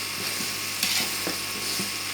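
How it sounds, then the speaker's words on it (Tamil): Fresh coriander, added after mint, sautés in a pan for biryani. A continuous close sizzle runs throughout, broken by a few soft stirring scrapes and clicks. "கொத்தமல்லி போட்டு அதையும் நல்லா வதக்கணும்."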